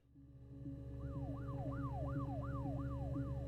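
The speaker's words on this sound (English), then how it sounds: "Oh my God, the siren noise." An emergency siren in the video game Her Story wails in repeated rising and falling sweeps over a low engine-like drone, steady and fairly loud throughout.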